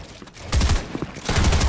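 Rapid SMG gunfire in the Valorant video game, loud, short bursts of fast shots near the start, then a second sustained burst toward the end.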